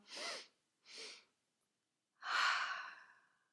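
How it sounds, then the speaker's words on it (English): Deep breaths are drawn through the nose, two short inhales and then one long, slow exhale, close and alone in a quiet room. "Inhale, inhale, exhale. Inhale, inhale, exhale."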